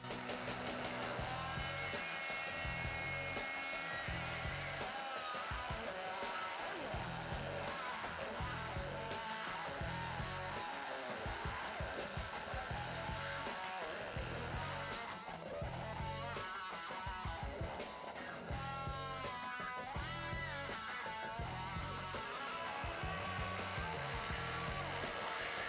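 A large power drill bores into regular brick, giving a continuous loud grinding whine with a shifting, rattling texture that runs unbroken from start to finish.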